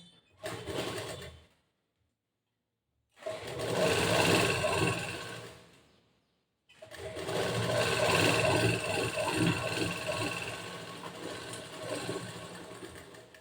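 Sewing machine stitching blouse fabric, close and loud, running in three bursts of rapid mechanical whirring and needle chatter separated by short silent gaps, the last burst longest.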